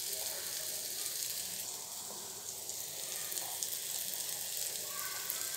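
Peas added to a hot pan, a steady bright sizzle with faint stirring clatter, close and continuous without talk.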